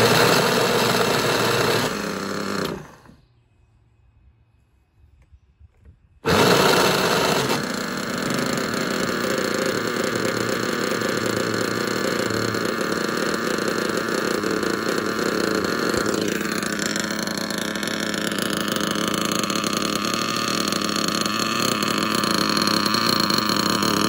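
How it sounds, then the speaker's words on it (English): Novarossi Bonito 7-port nitro engine idling very rich during break-in in a Kyosho MP9 buggy, a continuous buzzing drone that briefly cuts out, then restarts and runs steadily at close range. "I'm gonna idle it for like three or four tanks, very rich"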